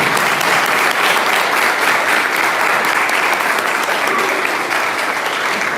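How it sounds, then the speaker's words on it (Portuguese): An audience claps loudly and continuously, a dense wash of applause that holds steady throughout without letting up. "Você pode aplaudir o nome de Jesus?"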